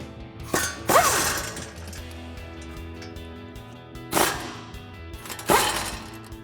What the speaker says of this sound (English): take the 2 bolts out here and here to remove our caliper mounting bracket from the steering knuckle